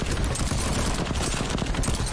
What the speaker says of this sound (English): this gun is so loud.